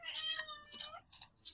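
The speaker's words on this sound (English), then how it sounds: "Can you hear my kitty?" A pet cat meows several times in quick succession, close and fairly clear, with short harmonic cries and breathy bursts in between, no talk.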